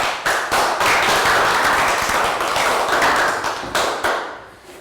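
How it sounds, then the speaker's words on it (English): A class of Year 3 students giving a round of applause, loud close clapping from many hands that starts abruptly, holds steady, then trails off into a few last claps. "Round of applause."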